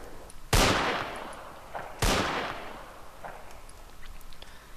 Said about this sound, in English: That sweet sound of the gun.